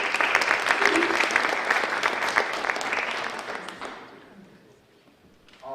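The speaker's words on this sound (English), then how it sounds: "Give her a big round of applause." Live audience applause at an entrepreneur tour event as a volunteer comes up to the stage, a dense loud clapping crowd that fades out over several seconds, with a faint voice at the very end.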